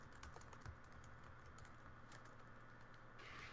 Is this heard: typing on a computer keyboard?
yes